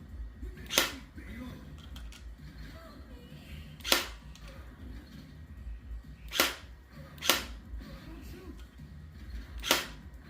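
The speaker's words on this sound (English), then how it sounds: "It's firing a bullet when I reload." Sharp shots from a retro shooter video game gun, firing on reload: five isolated cracks spaced irregularly over a low background hum, and a person talks in the clip.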